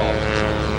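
An ultralight airplane flies overhead at an air show, its engine giving a loud, steady propeller drone that holds without a break.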